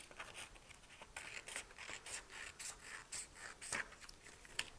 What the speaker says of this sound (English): then we're using our scissors